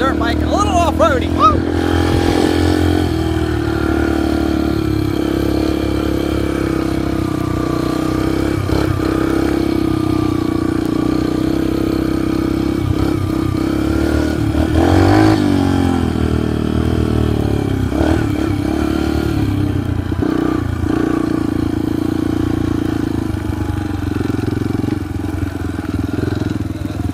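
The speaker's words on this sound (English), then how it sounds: "on a dirt bike, a little off-roady." A dirt bike engine running off-road, a loud continuous mid-pitched drone with rises and dips in revs and some clatter, with a person talking over it.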